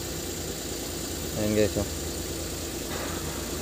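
A Suzuki minivan engine idles with a noisy, cracked tensioner bearing, a steady mechanical hum with a brief rising whine as someone speaks over it.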